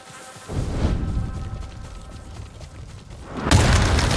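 A gunpowder explosion in the video game Ghost of Tsushima, a deep rumbling blast that swells after half a second and flares again sharply near the end, loud and alone without talk.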